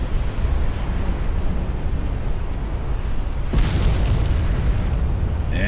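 Warship magazine cooking off in a naval battle in Ultimate Admiral: Dreadnoughts, a loud sustained roaring rumble of explosions that swells with a fresh burst partway through.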